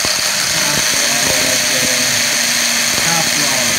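A brushless motor in a WLtoys 144001 RC car whines at low throttle, a steady high buzzing hum with faint rhythmic ticking, close and continuous.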